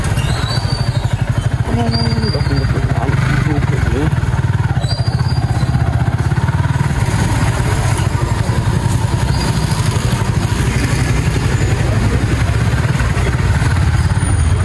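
A new 155 cc motorcycle engine runs steadily and close by, with a rough, pulsing putter and occasional rattles and squeaks over the drone.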